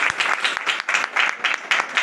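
An audience at an Aastha B.T.S. meeting in Agra bursts into loud, sustained applause, with dense clapping rising and falling in steady waves throughout and no voices over it.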